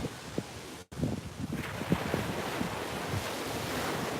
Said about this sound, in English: the Gulf of Mexico is a little bit rough tonight. Probably from the storm coming and from the wind